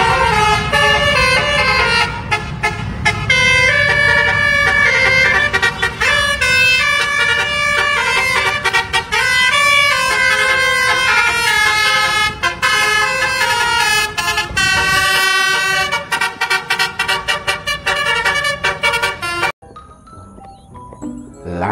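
A Blue Star bus's musical multi-tone horn plays a loud, continuous melodic sequence of bright stacked tones for about twenty seconds, then cuts off abruptly into a quieter tail.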